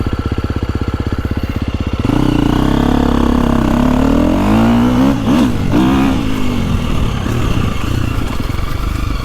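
A 2025 KTM 350XCF four-stroke dirt bike idles with a rapid, even thump, then is ridden on a woods loop, its loud engine rising and falling through revving surges close by, with no talk.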